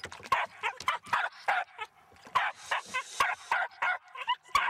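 A dog barks rapidly and repeatedly at a fish outdoors, a dozen or so sharp, close yips and bow-wows in an uneven rhythm, loud and without any talk over them.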